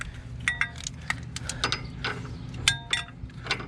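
A wrench ratchets in short bursts while tightening an inner tie rod on a car, with quick metallic clicks and clanks close by, uneven in rhythm.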